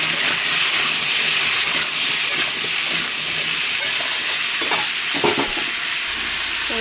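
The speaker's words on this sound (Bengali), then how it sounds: "নুন হলুদ দিয়ে দিলাম। নাড়াচাড়া দিয়ে ঢেকে দেবো।" Rice cooking in a pot on the stove, stirred after salt and turmeric are added, gives a steady loud sizzle and steamy hiss, with a few brief clanks of the spoon near the end.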